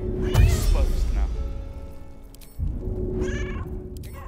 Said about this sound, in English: You have to just put the meow on the hotkey.